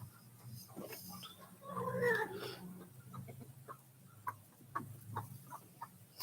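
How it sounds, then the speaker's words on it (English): Chickens clucking and squawking at a barbecue pit setting, a raised burst of calls early then scattered short clucks, moderately distant under a low hum. "Them chickens raising hell."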